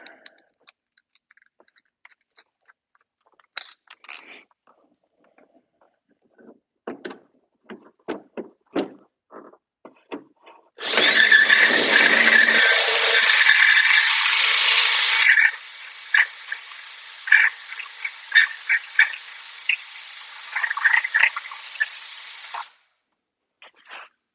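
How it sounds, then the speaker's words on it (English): A drill with a bit whirs loudly and steadily for about four seconds, then continues more quietly for several more. Scattered clicks and handling noises come before and after. "So second plan, we'll use a drill bit."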